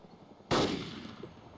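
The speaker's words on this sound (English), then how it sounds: "Oh shit, they're shooting." A single loud gunshot cracks out in the survival video game DayZ, a sharp burst that decays into a rumbling tail over quiet background.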